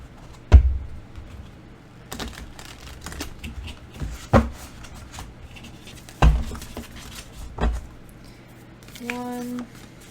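A deck of tarot cards is shuffled by hand in short bursts of riffling and slapping, separated by pauses and soft handling noises, close and fairly quiet.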